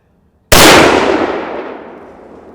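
One loud rifle shot cracks out while zeroing a rifle, followed by a long fading echo.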